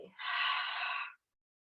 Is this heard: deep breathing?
yes